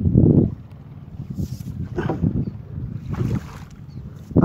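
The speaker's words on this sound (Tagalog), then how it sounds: "Malakas na ang hangin ah." Strong wind buffets the microphone in low, rumbling gusts outdoors, with faint hissing swells rising and falling over a few seconds.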